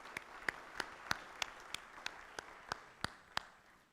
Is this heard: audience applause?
yes